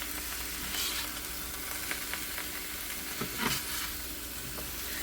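Pork chops and chopped apples sizzle in a Lodge cast-iron skillet while being stirred, a steady close frying hiss broken by a few soft scraping stirs, with no voices.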